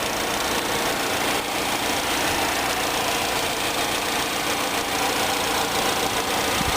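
A 2008 Chevrolet Cobalt LS with a 2.2 liter four-cylinder engine idling, a steady, even hum with a light mechanical clatter that stays constant throughout, with no talking.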